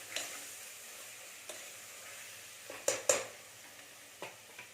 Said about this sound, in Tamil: சும்மா ஒரு 10 செகண்ட் இப்படி பண்ணால் போதும், வதங்கினா போதும்